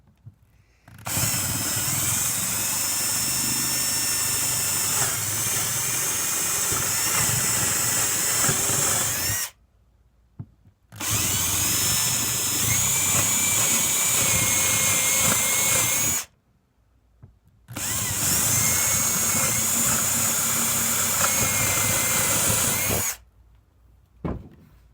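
A power drill whines steadily through a wooden guitar headstock, drilling tuner holes in three long runs separated by brief pauses, loud and close with no talking.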